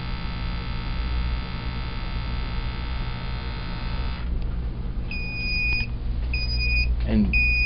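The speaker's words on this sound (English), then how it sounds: "And there's your alarm." J405 monitor going into alarm after a 17-second sample: a steady electronic drone of the sampling pump cuts off, then a few sharp repeated high beeps follow near and clear.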